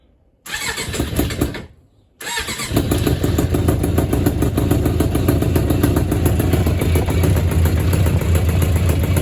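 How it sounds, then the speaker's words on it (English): A 1996 Suzuki GSX600F motorcycle started without choke: a brief cranking burst, a short pause, then the engine catches and settles into a loud, steady, rumbling idle close by. "So now I'm gonna start without choke."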